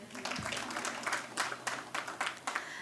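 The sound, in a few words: audience applause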